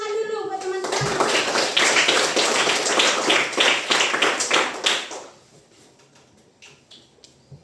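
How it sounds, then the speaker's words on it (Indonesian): A group of classmates claps in a classroom: a brief voice, then dense, sustained applause for about four seconds that tapers off into a quiet room. "Kasih tepuk tangan dulu buat teman-teman."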